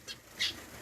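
A pet finch kept indoors gives two short, high chirps, the second louder, close by and alone against a quiet room.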